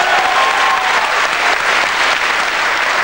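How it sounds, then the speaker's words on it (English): Studio audience at the comedy game show Distraction breaks into loud, sustained applause, a dense continuous wash of clapping that holds steady for about three seconds with no speech over it. "I think a round of applause, yeah."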